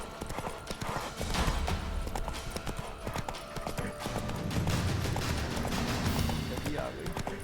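Galloping horse hooves in The Witcher 3 video game, a continuous quick clip-clop of a ridden horse heard up close, with faint game ambience underneath.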